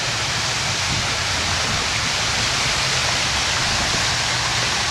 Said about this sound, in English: There we got the waterfalls.